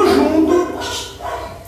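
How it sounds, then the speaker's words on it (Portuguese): Small dogs bark and yip several times nearby, sharp high barks in quick bursts with a brief pause between them. "Tem os cachorrinhos latindo aqui, por isso que ela está olhando."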